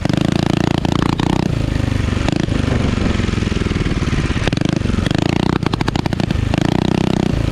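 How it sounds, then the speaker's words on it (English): Coleman CT-200U-EX full-suspension minibike ridden with the choke left on: a loud, close small-engine drone that rises and falls with throttle, with rattling clatter and brief sputtering dips, no talking. "we left the choke on and rode it, and input the video here"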